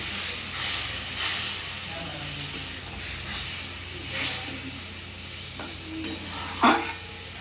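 A rohu fish curry being stirred in a pan, with soft scraping strokes recurring over a steady bubbling sizzle and a sharper clink near the end.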